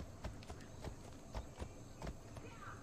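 Horse hooves from the video game Assassin's Creed Odyssey, a run of sharp, evenly spaced clip-clop strikes at moderate loudness, with someone talking over the galloping rhythm.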